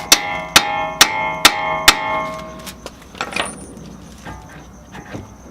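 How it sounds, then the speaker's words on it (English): About five loud, evenly spaced metallic hammer strikes smack an axle nut loose from the splines during a dual caliper install, each ringing clearly, followed by quieter clinks and rattling of loose metal. "Just gotta finish smacking this axle nut out."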